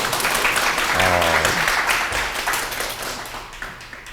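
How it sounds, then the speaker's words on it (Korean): Audience applause at a corporate ethics and leadership keynote lecture; a short burst of many hands clapping together, dense and fairly loud, tapering off over a few seconds with a low voice briefly under it. "이럴 때는 박수들을 좀 쳐주시는데"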